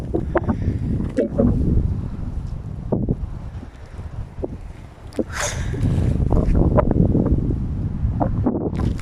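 Wind gusts roar steadily into the microphone outdoors, a rumbling buffeting with occasional sharp knocks and rustles, rising stronger toward the end.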